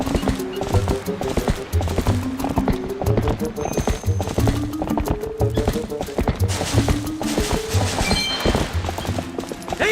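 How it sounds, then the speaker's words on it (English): Rhythmic hoofbeats of a horse galloping in the video game The Legend of Zelda: Twilight Princess, loud and steady throughout with game music underneath and a voice talking briefly. "it allows you to jump over, like, low obstacles. So the horse will, like, jump over low obstacles"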